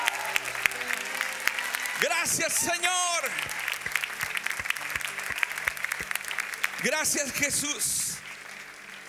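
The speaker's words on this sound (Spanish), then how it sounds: "Ese aplauso más fuerte." A church congregation applauds in sustained clapping while a pastor speaks loudly over it, with a couple of rising bursts of cheering voices.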